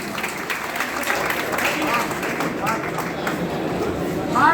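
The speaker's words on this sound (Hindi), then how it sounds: "आप लोगों से आग्रह करना चाहता हूं कि लोग तालियों से जोरदार स्वागत किया जाए" Audience clapping to welcome a guest at a teachers' honour ceremony in Rajpur, Rohtas, Bihar: steady, moderately loud applause from a crowd, lifting slightly at the end, with some voices mixed in.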